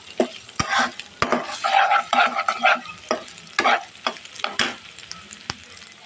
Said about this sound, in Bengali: মাংসটা ভাজা হয়ে গেছে এখন আমি সামান্য একটু এক্সট্রা মশলা দিলাম